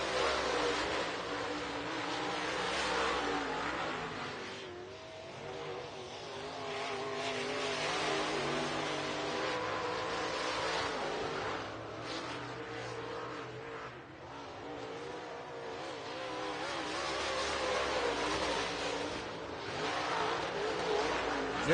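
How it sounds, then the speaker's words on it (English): Race cars at Southern Raceway, an oval in Milton, Florida, roar steadily as they pick up the pace, a continuous distant engine drone that swells and dips as the pack circles, with a commentator talking over it. "Cars are picking up the pace."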